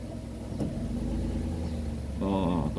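A Perodua Viva car engine with high RPM and an oil leak idles steadily nearby, a constant low hum with a faint click early on and a brief tonal whir near the end.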